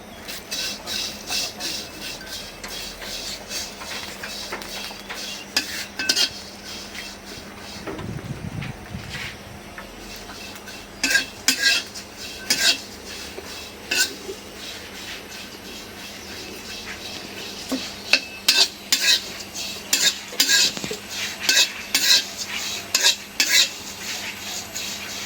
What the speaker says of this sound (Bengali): এখন এই যে চিংড়ি মাছের শুটকিগুলি ভাইজে নিই।